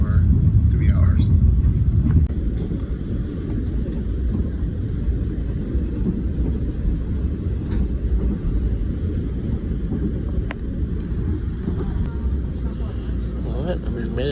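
Steady low rumble inside a moving train on a short ride, with constant wheel and carriage noise filling the lows and a faint breathy hiss above, unbroken throughout.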